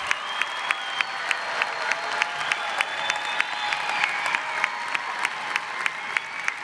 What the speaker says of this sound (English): let's give another round of applause for all our graduates